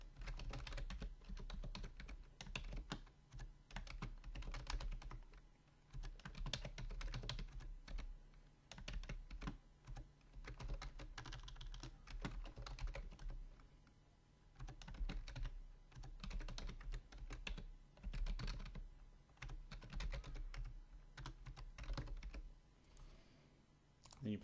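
Rapid, steady keystrokes on a computer keyboard while entering a Windows environment variable path, clicking along continuously and fairly close with no talking.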